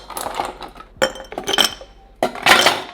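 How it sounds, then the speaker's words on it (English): A coated item goes into a small glass jar in a kitchen, giving several bright glassy clinks and knocks in uneven bursts, close and clear with no talking. "Put it in our little jar."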